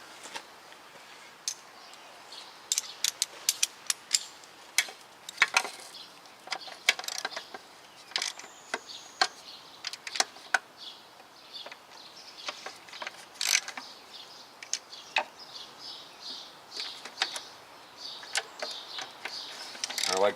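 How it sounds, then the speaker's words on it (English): A ratchet wrench tightens the mounting bolts on a car engine's self-starter motor, giving a steady run of sharp, close clicks in short bursts with brief pauses between strokes. "go ahead and tighten everything down to spec"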